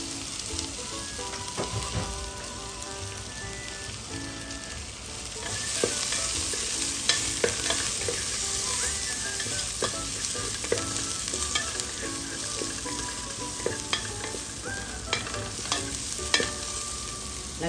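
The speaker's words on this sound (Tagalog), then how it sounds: "Naglalagay po ako ng curry leaves." Garlic and curry leaves fry in a pan, a continuous close sizzle that swells louder partway through, with stirring scrapes and sharp pops spread across the whole stretch, no voices.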